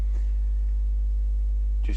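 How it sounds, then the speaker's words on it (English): Steady synthesized 50 Hz sine wave generated in Reaper for kick drum synthesis, a deep continuous low hum held evenly for the whole stretch with no other sounds over it. "sine wave at 50 hertz"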